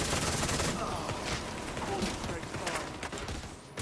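Dense bursts of automatic gunfire from a boss fight in The Division 2, sustained and loud across the whole stretch, with a voice talking over the shooting.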